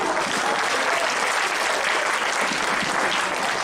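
A lecture audience in a leadership lecture series bursts into sustained, dense applause, many hands clapping loudly and evenly throughout.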